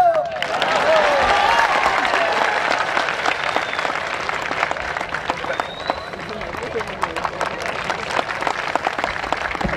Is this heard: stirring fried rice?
no